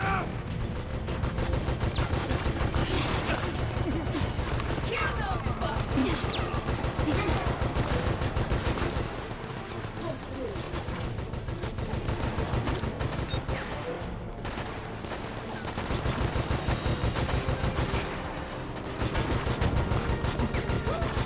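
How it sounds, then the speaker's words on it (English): Heavy machine gun fire in the Resident Evil: Operation Raccoon City video game, dense continuous bursts of rapid shots filling the whole stretch, loud and close with brief lulls. "Heavy machine gun."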